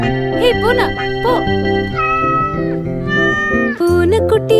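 A kitten meows several times over a cheerful Tamil nursery rhyme melody, short rising-and-falling cries near the start and again toward the end, set against loud music.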